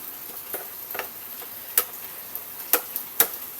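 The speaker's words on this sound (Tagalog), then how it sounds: "Haluin natin ng maayos para sumama yung iba nating ingredients at lumasa" A tofu dish with lemon juice gets stirred in a pan: a faint low frying hiss with a few sharp, scattered clicks and scrapes of the utensil against the pan.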